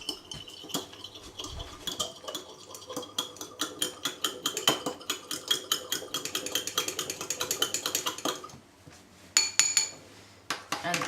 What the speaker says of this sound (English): Now we've got to beat it with a fork.